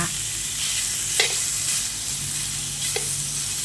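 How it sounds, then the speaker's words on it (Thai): Pork belly stir-fries in a pan as its fat renders, giving a steady close sizzle with a couple of brief spatula scrapes as the meat is turned, and no voices. "เราก็มาลวนหมูสามชั้น ให้น้ำมันออกนิดหนึ่งก่อนนะคะ"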